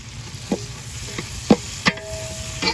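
Hot oil sizzles softly in a pan as spices fry and a utensil stirs, with a few sharp scraping clinks spaced out across the short clip.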